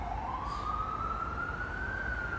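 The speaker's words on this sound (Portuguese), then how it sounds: "Esse barulho da sirene é bem Nova York, né?" An emergency vehicle siren rises steadily in one long wail on a street in central Manhattan, New York, heard at a moderate distance over constant traffic rumble.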